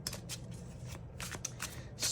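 Elemental Oracle deck cards shuffled in short rustling bursts across a couple of seconds, with a soft low room hum beneath and no voices.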